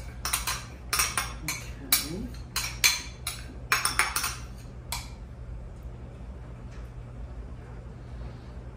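A metal spoon clinks and scrapes against a mixing bowl while butter is stirred into apple loaf cake batter, a quick run of close knocks and taps over about five seconds before the kitchen goes quiet; one brief word is spoken.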